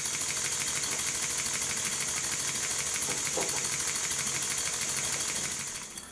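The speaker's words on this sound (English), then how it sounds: "When I put the engine on a piece of Scotch-Brite, it's a lot quieter." A Stuart Double 10V model steam engine runs on a Scotch-Brite pad, giving a steady, fast mechanical chatter of small repeated knocks that holds even throughout and fades slightly at the end.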